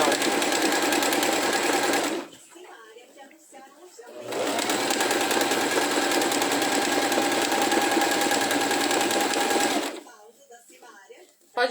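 A sewing machine runs two sustained bursts stitching a fabric seam, close and steady, with a short pause between them filled by quiet speech; someone talks lightly over the machine.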